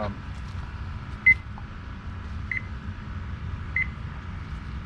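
Three short, faint electronic beeps of a cooking timer spaced about a second apart, over a low steady hum of background noise at a campsite.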